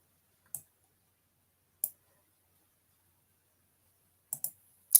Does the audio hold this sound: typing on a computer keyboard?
yes